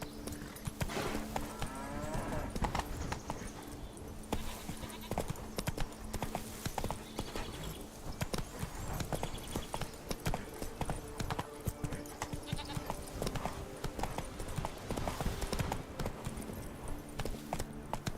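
Hoofbeats of Roach, the horse in The Witcher 3, clip-clop steadily in a galloping rhythm throughout, close and continuous over a dense game soundscape.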